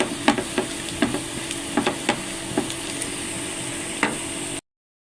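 Cardamom pods and cinnamon sizzle in hot oil as liver curry begins, a continuous close hiss broken by small crackling pops and stirring scrapes until it cuts off.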